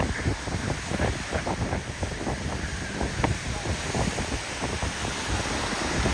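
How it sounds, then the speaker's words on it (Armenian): Sea waves washing onto the shore at Sunny Beach, Bulgaria, a continuous broad roar mixed with wind buffeting the microphone, steady and fairly loud with no voices. "Անայդ ասում է, սր ալիքները թույլ են ավելի"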